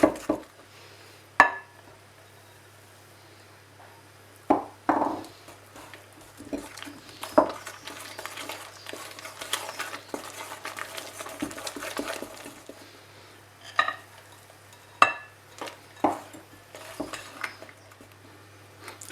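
A spoon scraping and clinking against a bowl while Victoria sponge cake batter is mixed, with irregular sharp knocks and softer stirring rasps close by and a low steady hum beneath.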